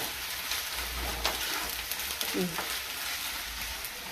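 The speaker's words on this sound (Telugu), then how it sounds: "ఒకసారి కలుపుకుందాం ఫ్రెండ్స్. ఒకసారి కలుపుకుందాం." Mango fish curry frying in a pan while being stirred: a steady, close hiss of sizzling oil with soft scraping strokes, a brief low murmur partway through.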